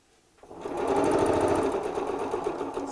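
Close up, a sewing machine starts and runs a steady, fast stitching whir along the last seam of a fabric storage cube, holding an even rhythm to the end with no talk.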